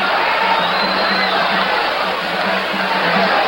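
Spectators at a professional boxing bout roar together in a thick, steady wash of cheering and shouts, loud and close, swelling slightly with a faint whistle rising through it.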